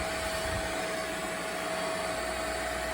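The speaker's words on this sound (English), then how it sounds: "I'm going to scrub and wash this out with my carpet cleaner." A carpet cleaner runs on the seats of a new Mustang, giving a steady, loud, unbroken suction roar with a constant high whine throughout.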